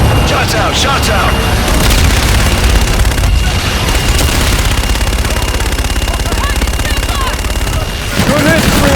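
Requested fire-strike explosions and rapid gunfire in the Call of Duty: Infinite Warfare video game: dense, loud booms and rattling bursts pile up continuously, with a brief dip near the end before the barrage resumes.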